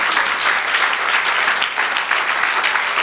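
A church congregation claps steadily and loudly in a sustained burst of applause, dense and continuous with no voices over it.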